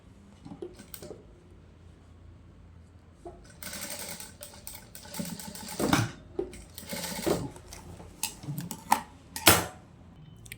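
A sewing machine stitches a gap in a young girl's dress, quiet at first, then bursts of fast rattling stitching run intermittently with clicks and handling noise between them, close and fairly loud.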